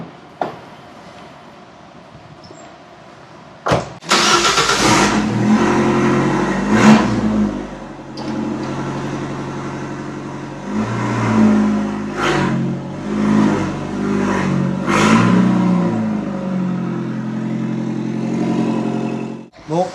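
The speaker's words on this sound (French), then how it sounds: "ça nous permettra d'entendre aussi le bruit de la voiture" A car engine starts with a sharp burst after a short silence, then revs repeatedly in rising and falling surges, close and loud, at a car wash, before cutting off near the end.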